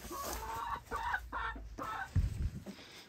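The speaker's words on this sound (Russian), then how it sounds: "Вот куры" Laying hens in a henhouse cluck close by in short, uneven bursts, a few calls overlapping with soft rustling between them.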